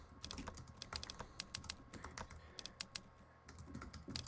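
Fast typing on an iPad on-screen keyboard in the Hanx Writer app, a quick irregular run of sharp, clacky typewriter-like key clicks, close and fairly faint, with no talk.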